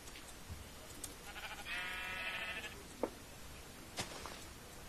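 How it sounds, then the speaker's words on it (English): A sheep in the Minecraft video game lets out a single wavering bleat of about a second, mid-level in loudness, amid soft ambient noise and a few brief thumps. "A sheep."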